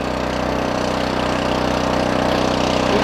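Neva walk-behind tractor engine running in second gear during first ploughing, a steady chugging mid-pitched drone heard close and continuous.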